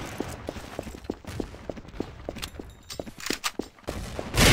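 Silenced gunfire in Counter-Strike: Source, a run of soft, evenly spaced muffled shots in quick rhythm over background noise, ending with a louder burst.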